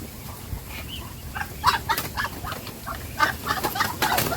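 Young muscovy ducks, 35 days old, are released from their pen on a farm, making soft, scattered peeps and chirps with light rustling and movement close by.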